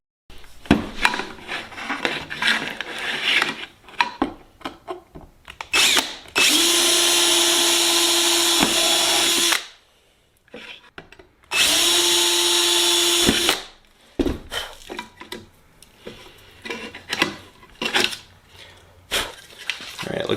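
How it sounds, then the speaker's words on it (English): A power drill bores through an aluminium aileron counterweight rib during a Sonex aircraft build. There are two sustained whining runs of a few seconds each, with clicking and clattering of clecos and handling before, between and after them. "and then I just need to drill through the rib itself."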